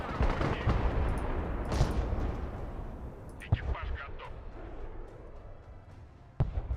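Artillery and gunfire assault in the video game Broken Arrow, dense rolling bursts of gunfire and booms, loud at first and thinning into scattered sharp cracks and a final bang, with talk over it.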